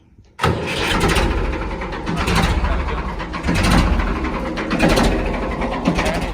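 A Ford tractor's engine cranks and catches after a brief quiet moment, then runs loud and close at a rough, pulsing idle with uneven surges, alone in a workshop setting.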